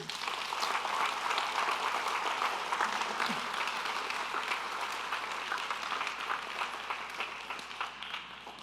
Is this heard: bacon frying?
no